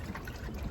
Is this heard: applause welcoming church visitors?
no